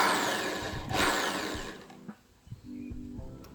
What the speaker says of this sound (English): I'm just gonna drill slowly